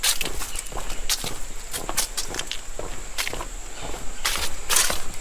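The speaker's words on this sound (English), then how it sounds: "So we're going to step here and just walk across it." Footsteps cross a newer wooden plank deck laid over old trestles on a forest rail trail bridge, a steady walking rhythm of fairly close, crisp treads over a constant hiss of insects, with no talking.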